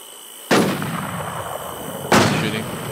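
Two loud, close gunshots ring out in the survival shooter Infestation Survivor Stories, each a sharp crack with a ringing decay, about 1.6 seconds apart.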